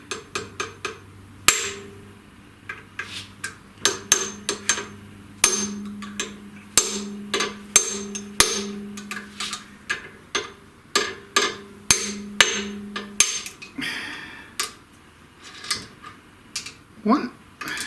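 Steel punch struck repeatedly with a hammer to loosen double lock nuts on a milling machine, sharp metallic taps in irregular bursts, close and fairly loud, with a few short pauses between strikes.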